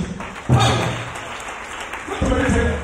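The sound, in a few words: applause for Jesus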